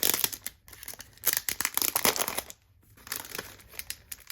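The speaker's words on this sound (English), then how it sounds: "I do like crinkling sounds" A plastic packaging bag being handled, with close, bright crinkling and rustling in quick irregular bursts, a short quiet gap partway through, then softer crinkles.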